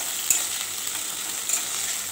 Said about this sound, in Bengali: এই যে এগুলো ভেজে নিচ্ছি